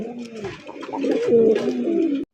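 An Andalusian pigeon coos in a low, throaty rolling call, close and clear, ending abruptly.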